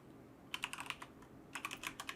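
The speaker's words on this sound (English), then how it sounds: "Well, we'll start typing this" Faint, close clatter of typing on a computer keyboard, two short bursts of rapid keystrokes separated by a brief pause, with no speech.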